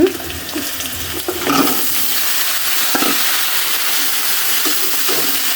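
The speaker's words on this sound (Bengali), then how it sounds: "আমি দিয়ে দিচ্ছি সিম" Flat beans stir-fried with onions in a pan, a steady loud sizzle with a few scraping stirs near the start, continuous and close.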